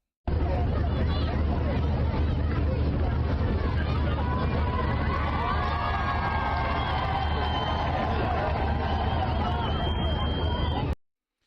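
A Palestinian crowd out in the streets cheering, a dense, loud mass of overlapping voices and shouts that holds steady for about ten seconds before cutting off.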